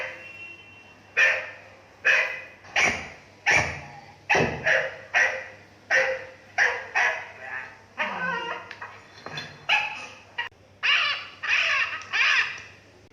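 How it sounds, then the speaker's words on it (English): An Amazon Echo Plus (2nd Gen) smart speaker with Alexa plays a recorded dog barking, a steady series of about a dozen sharp, loud barks in quick, irregular succession over a faint electronic hum, with no talk. "Alexa, bark like a dog."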